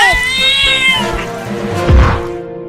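A loud, close cat meows in a long, drawn-out, wavering cry near a pipe in a park, followed by softer rustling.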